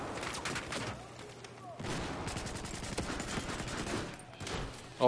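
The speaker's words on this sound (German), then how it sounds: "Ich schieße eigentlich gerade nur in den Rauch hinein und treffe irgendwas." Gunfire in Battlefield 4 on the Metro map, with rapid bursts of automatic shots and distant explosions layered into a dense, continuous battle din, and faint voices mixed in.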